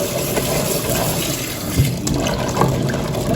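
Tap water runs steadily to rinse chestnuts in a kitchen, a loud continuous splashing gush with a few small clinks and bumps, close and without speech.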